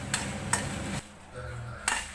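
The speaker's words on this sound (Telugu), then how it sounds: "స్టవ్ కట్టేసుకుని అదే వేడి మీద ఫ్రై చేసుకుంటాను" Fennel seeds fry in a hot pan off the flame, with a faint sizzle under sharp metallic scrapes and taps of a spoon stirring against the pan, three distinct clinks spaced about a second apart.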